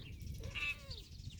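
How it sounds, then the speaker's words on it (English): One short, faint cat meow with a rising then falling pitch, heard alone over a quiet background in a garden setting. "Cat wants to talk to who?"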